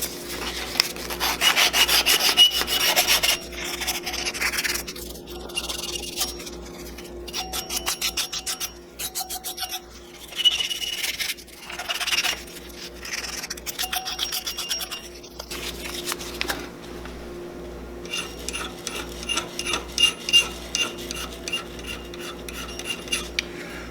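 A brass mount being sanded by hand with 360 grit sandpaper: a steady, close, scratchy rasp of repeated rubbing strokes that continues throughout with small changes in pace.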